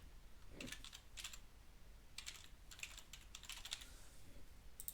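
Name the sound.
typing a file name on a computer keyboard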